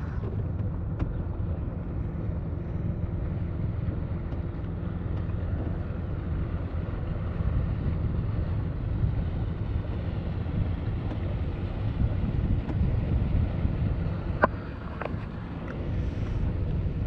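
A sailboat named Saori sits with its engine idling as it departs Porto Santo Stefano, giving a steady low rumble with wind buffeting the microphone, continuous and fairly close throughout.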